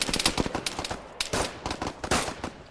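Automatic gunfire in Arma 3 during a Russian jungle operation, rapid overlapping bursts of sharp cracks from several weapons, loud and close, with brief gaps between volleys.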